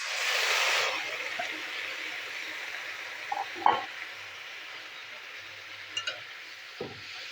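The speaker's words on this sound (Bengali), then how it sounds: "সিদ্ধ করা পালং শাক দিয়ে দিলাম।" Boiled spinach stirred into a hot pan with fried beans and eggplant gives a soft, steady sizzle, with a louder burst at the start and a few scraping clinks of the spatula.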